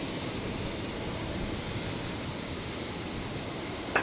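Virgin airliner arriving on runway 01 right at Brisbane airport on a stormy night, a steady broad engine roar filling the whole clip at close, even loudness with no breaks.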